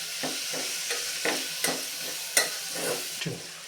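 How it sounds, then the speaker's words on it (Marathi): Chopped onion with ginger garlic paste sautéing in a pan, a steady close sizzle broken by regular scraping strokes of a spoon stirring the mixture, with no talk. "मिक्स करून घेऊया आणि ही सुद्धा कांद्यासोबत पैकी आता परतून घेऊयात आपण"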